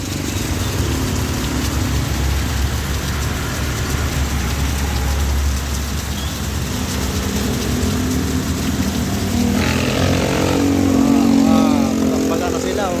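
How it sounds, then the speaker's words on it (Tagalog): Heavy rain hisses steadily over a running engine, with muffled voices talking underneath and traffic noise throughout. "Lakas ng ulan"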